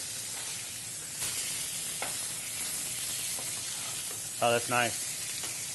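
Scallops and fish searing in a hot pan give a steady, close sizzle and hiss throughout, with a brief spoken comment partway through.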